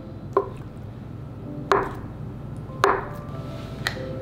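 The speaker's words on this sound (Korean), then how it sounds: "이렇게 메밀묵을 다 썰어 주었습니다." A knife cuts through soft buckwheat jelly (memilmuk) on a board, the blade wetted with water so it won't stick, giving four separate dull chopping taps spaced about a second apart.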